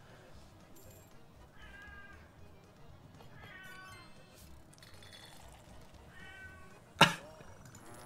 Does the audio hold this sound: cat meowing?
yes